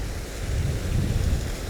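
Waterfall near Bleaberry Tarn, its water tumbling in a steady, dense roar with strong low rumble, close and continuous.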